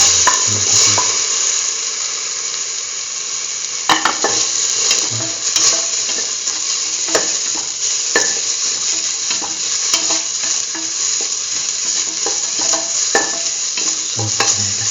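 Tomato paste and tomato pieces sauté in a pan with a steady hiss of frying, while a spoon scrapes and knocks against the pan in irregular close strokes.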